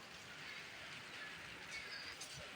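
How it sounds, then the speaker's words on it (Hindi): Heavy rain pours steadily outdoors as a dense, even hiss of falling water with no breaks, fairly faint and with no voices over it. "जैसा कि बारिश भी तेज आ गई है"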